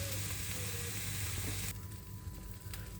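Cream poured into a frying pan to deglaze it after cooking shrimp, with a loud close sizzle that suddenly softens partway through into a quieter bubbling hiss.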